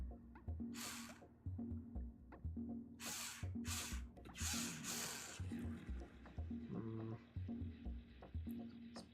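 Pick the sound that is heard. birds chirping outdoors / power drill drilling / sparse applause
power drill drilling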